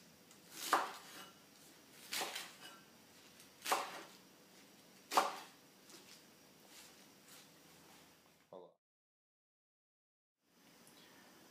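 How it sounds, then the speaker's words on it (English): Knife chopping greens on a cutting board in a home kitchen while preparing beef ramen noodle soup, with four spaced, crisp thuds at an easy rhythm, close and moderately loud, then a brief pause into near silence. "Then, roughly chop the leaves into large bite-sized pieces."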